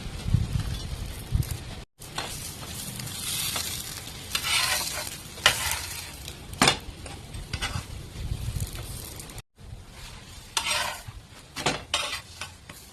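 A paratha snack fries in a little oil in a pan, giving a steady close sizzle broken by scraping and clinking from a metal spatula, with two brief silent cuts.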